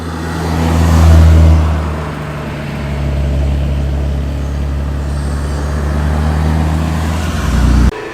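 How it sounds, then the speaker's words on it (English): Two BMW Z3 roadsters arrive at a Weston Park classic car show, their engines swelling to a loud nearby roar then settling into a steady rumble as they roll past. "Pair of Z3 BMWs."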